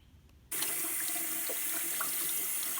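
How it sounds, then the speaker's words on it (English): Fresh mint is rinsed under a running kitchen tap. After half a second of quiet, the water starts and keeps splashing steadily, close and fairly loud, with no talking. "Just going to give our mint a good rinse here"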